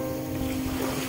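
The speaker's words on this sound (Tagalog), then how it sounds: "lakas ng alon dito." Rough surf churns in a continuous roar at a beach resort in Zambales, Philippines, mixed with wind buffeting and a low steady hum, loud and close for a brief moment.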